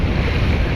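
Sea waves roll in at a beach, heard as a brief, loud, dense wash of surf mixed with wind rumble on the microphone.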